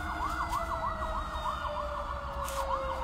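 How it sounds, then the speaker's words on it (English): Emergency vehicle sirens wail outside, a steady rising-and-falling yelp pattern at moderate distance over a low background rumble, with no talking. "You hear the sirens?"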